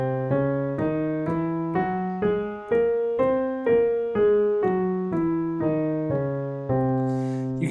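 Piano playing the altered scale: single notes struck one after another in an even, moderate rhythm, each ringing and decaying before the next, close and clean with no speech.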